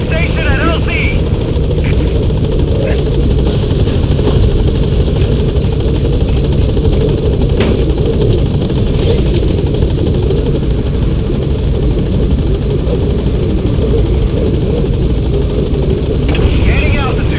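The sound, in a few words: B-Quad helicopter arriving at landing zone, Metal Gear Solid V video game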